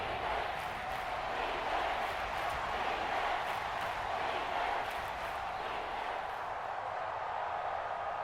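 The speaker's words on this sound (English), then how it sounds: "this crowd doing their best to make a lot of racket" A game stadium crowd in Madden NFL 24 roars as a steady, dense wall of cheering that holds level throughout, with faint rhythmic pulses over the sustained noise and no commentary heard.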